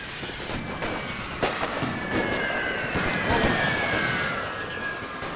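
Artillery shelling in a World War I strategy game played as the Russian Empire: irregular booms and cracks, some near and some farther off, over a steady roar of battlefield noise.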